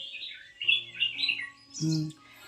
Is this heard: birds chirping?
yes